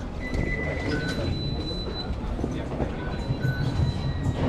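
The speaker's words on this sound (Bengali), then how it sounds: "মেট্রো চলে আসছে" A metro train pulls into a station in Bangkok with a steady rumble of wheels on rail, brief high squeals and tones, and a dense station hubbub throughout.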